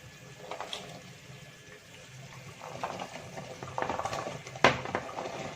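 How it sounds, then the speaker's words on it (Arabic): Okra goes into a pot of already-cooked meat for an Egyptian okra-and-meat stew with garlic. Low bubbling and soft splashing build gradually, ending in a sharp clatter near the end, with no talking. "نحط الباميه الحلوه بتاعتنا دي."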